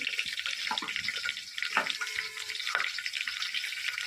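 Mustard seeds, cumin and curry leaves frying in hot oil, a close crackling sizzle with small pops and spatters over a steady hiss.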